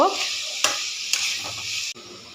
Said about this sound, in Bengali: নুন আর হলুদ পরিমাণ মতো দিয়ে দিয়েছি। এবারে ভালো করে ভেজে নেব